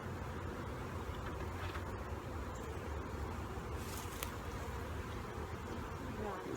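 Honeybees swarm around a hive after a late-season swarm, making a dense, steady buzz that fills the whole stretch, close and continuous, with no break in the drone.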